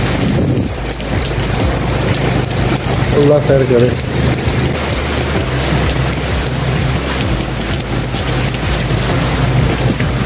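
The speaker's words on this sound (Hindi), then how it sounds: "देखिए कितनी तेज़ बारिश शुरू हो गई है," Heavy stormy rain pounds down with strong, gusting wind roaring across a tarpaulin shelter, a loud, continuous wash of noise throughout, with a voice briefly speaking over it.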